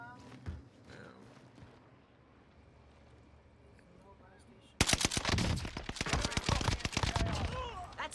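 NZ-41 rifle fire in Warzone Pacific on Rebirth Island: a quiet stretch of low game ambience, then a sudden loud, sustained run of rapid close shots filling the second half.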